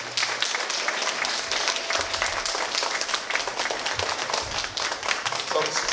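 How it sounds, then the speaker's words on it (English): Continuous crowd applause at a graduation ceremony, honoring parents and staff; many hands clap together in a bright, dense patter that stays steady throughout, with some individual claps standing out. "Let's give your parents and the staff a round of applause for being here with you this summer."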